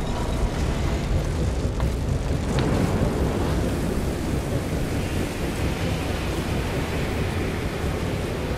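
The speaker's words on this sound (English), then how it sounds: "Such tremendous gusts!" Strong wind gusts in the video game Guardians of the Galaxy roar in a dense, continuous rush, loud and unbroken throughout with no voices.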